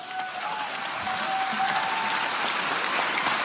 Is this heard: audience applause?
yes